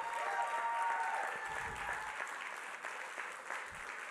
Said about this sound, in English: Somebody clap your hands and shout.